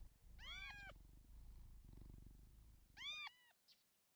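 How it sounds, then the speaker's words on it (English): Two clear cat meows from a video game, spaced apart, over a low rumbling purr, followed by a short quieter chirp. "Let's stand and meow with them."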